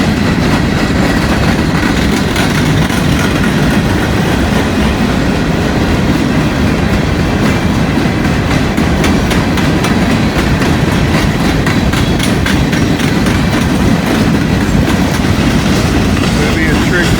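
An Indiana & Ohio freight train with clean locomotives passing close by, a loud, continuous roar of rolling cars with rhythmic clickety-clack and occasional wheel squeal.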